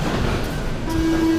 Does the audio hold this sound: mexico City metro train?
yes